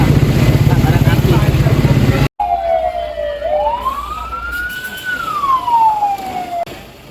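A fire truck siren wails up and down, loud and close, in a sweeping rise and fall; before it a busy stretch of crowd and vehicle noise cuts off abruptly.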